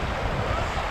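Water rushing strongly at Zero Point in North Sikkim, a loud continuous roaring wash with a broad, unbroken hiss and rumble, close and without speech.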